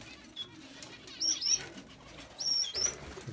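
Golden finches in a balcony aviary make two quick bursts of wing flapping, each paired with sharp high chirps, close and fairly soft over a quiet background hum.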